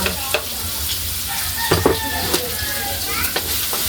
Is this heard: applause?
no